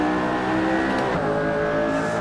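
McLaren Senna engine roaring steadily at Spa in Assetto Corsa, a loud, continuous racing drone with a brief gear-change shift partway through, no voices.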